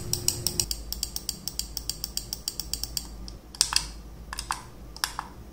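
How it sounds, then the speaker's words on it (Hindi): Button clicks from a Portronics Toad Two wireless mouse, a quick string of sharp, close clicks at a fairly steady rhythm, then a few sparser, louder clicks toward the end, with no talking. "click sound test"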